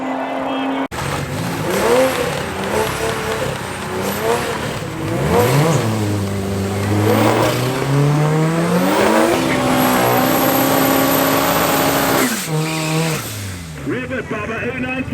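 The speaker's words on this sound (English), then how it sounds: "Corolla up against the Mark 5 Supra." Drag race at Midvaal Raceway between a Toyota Corolla and a Mark 5 Supra: loud engines rev and accelerate with rising, shifting pitch for several seconds, steady and close, then cut off and tail away near the end.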